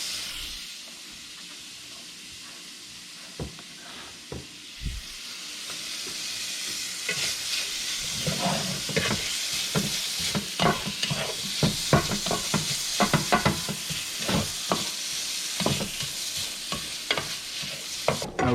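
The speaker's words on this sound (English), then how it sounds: "so we are gonna cook the bacon" Bacon frying in a pan for tuna carbonara pasta: a quiet hiss at first, swelling into a dense crackling sizzle with scattered pops and stirring scrapes, close up and without talk.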